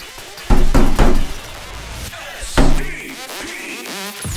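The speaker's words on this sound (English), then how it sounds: "Someone's knocking on the door." Several sharp knocks on a door land in two bursts, loud and close, with a brief thud-like resonance after each, followed by quieter background sounds.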